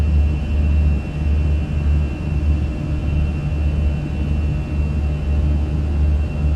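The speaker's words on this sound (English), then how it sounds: "Listen to those engines just hum" Fenix A320 airliner engines from Microsoft Flight Simulator drone in a steady, loud low hum with a faint higher whine, as if heard from inside the cabin, continuous and unbroken without any talk.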